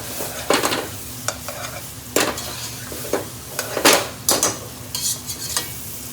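Onions frying in a pan for a Bangladeshi chicken bhuna, a soft steady sizzle broken by repeated scraping stirs of a utensil against the pan, close and irregular, with no talking.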